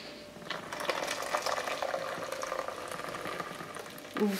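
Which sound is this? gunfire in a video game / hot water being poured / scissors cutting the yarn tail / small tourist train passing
hot water being poured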